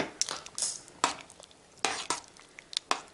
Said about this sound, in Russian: Еще раз хорошо перемешиваю